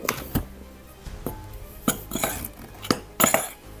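A spoon stirring flour, baking powder and thyme in a bowl for Christmas shortbread biscuits, giving several scraping strokes and clinks of utensil against the bowl at an uneven pace, close by.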